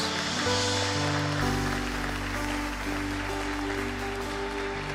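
A church congregation applauds in a dense, steady wash of clapping during a worship service, under sustained organ-like musical tones that hold throughout.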